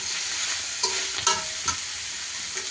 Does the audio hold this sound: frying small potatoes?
yes